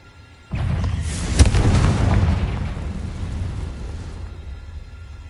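Explosion from the Confringo fire spell in Hogwarts Legacy: a sudden loud boom that peaks about a second in, then a long rumbling roar that slowly fades away.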